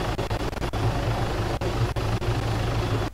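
Helicopter in the Arma 3 video game, a loud continuous rotor and engine roar with a low throbbing hum, broken by a few sharp brief dropouts.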